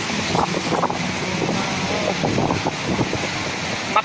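Pacific Ocean surf at a beach in Antofagasta, a steady broadband wash of waves with heavy wind buffeting the microphone throughout, fairly loud and continuous with no talking.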